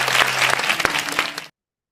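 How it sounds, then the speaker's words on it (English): Audience applause at a tech summit welcoming the next speaker, a short dense burst of clapping that stops abruptly after about a second and a half. "All right, come on, round of applause."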